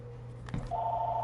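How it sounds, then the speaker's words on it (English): A phone in the video game NHL 26 starts to ring after a short soft thump, giving a steady electronic tone that holds to the end. It is moderately quiet and plays with no talking. "Oh, hey, there's the phone."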